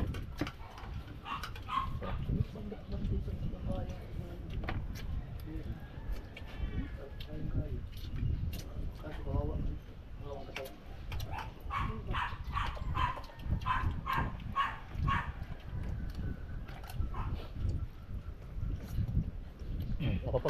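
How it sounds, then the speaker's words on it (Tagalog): A dog barks in short yelping bursts at a distance while people talk over it in Filipino, with the talk continuing throughout. "Aso, yung aso lang."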